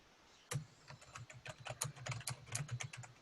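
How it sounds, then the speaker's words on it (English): Quiet, close typing on a computer keyboard, a rapid irregular run of small key clicks that starts abruptly after a moment of near silence and carries on steadily to the end, with no voices. "Here's some typing."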